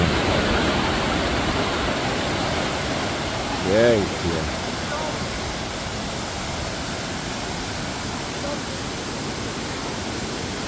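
Steady roar of rushing water from a small waterfall fills the whole clip; a person briefly speaks over it in Polish.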